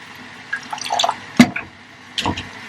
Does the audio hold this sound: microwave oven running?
no